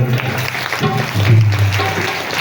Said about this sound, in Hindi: तो ताली बजाकर आप इनका भी धन्यवाद सम्मान कीजिए।